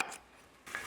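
Two quick knife chops through a bell pepper on a cutting board, sharp and close, separated by a short quiet gap.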